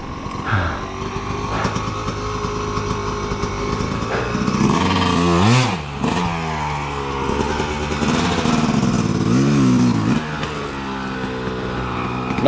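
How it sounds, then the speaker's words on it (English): An enduro dirt bike races along a woodland trail during an enduro race, its engine droning and revving nearby, rising in pitch as it approaches, passes and pulls away, loud and close throughout. "I first see this bike coming at me."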